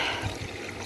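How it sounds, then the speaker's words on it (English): Water pumped out of an aquaponics fish tank pours and splashes in a steady, close, continuous gush, heard alone for about a second. "we're pumping from this tank into this tank, and then from this tank we're pumping it out onto the paddock"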